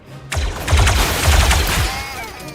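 Repeating-rifle gunfire in the Star Wars Zero Company tactical video game: a dense burst of rapid shots with booming low impacts, lasting about two seconds after a brief quiet start.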